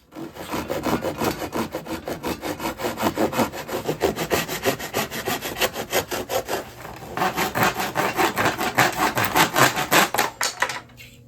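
A handsaw cuts wooden guitar sides to width in a basement workshop, producing close, loud rhythmic rasping strokes in a steady back-and-forth pattern that briefly pauses midway and then resumes.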